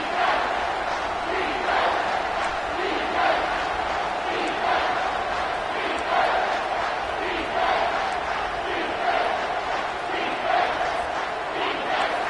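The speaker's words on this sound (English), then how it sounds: "Decibels rising as the crowd gets behind this defense on third down." Football stadium crowd roaring for the defense on third down, a dense sustained wall of cheering and yelling that swells in waves, loud and continuous with no clear single voices.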